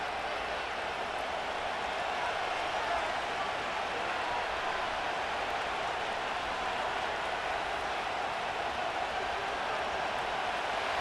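A football stadium crowd at an NFL game between the Kansas City Chiefs and Tampa Bay Buccaneers, a broad steady roar of many voices, sustained and even from start to finish.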